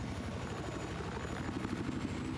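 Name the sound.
helicopters flying in a video game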